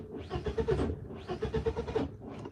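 A BMW E36 with an M42 engine running a MicroSquirt ECU cranks on its first start attempt, with the starter's rhythmic churning in two long bursts and a short third one, close and loud, with no talking.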